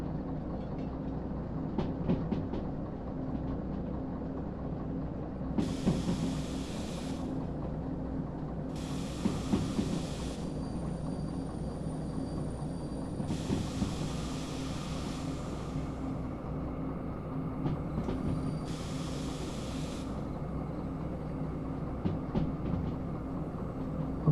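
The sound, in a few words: train rolling on rails in the video game Derail Valley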